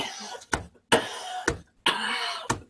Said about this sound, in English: So, you develop a heavy cough